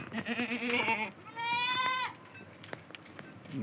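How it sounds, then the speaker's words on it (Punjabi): Goats bleat loudly nearby in a pen, two long wavering calls one after another, followed by quieter shuffling and faint background noise. "ਬੱਕਰੀਆਂ ਦਾ ਵਾੜਾ"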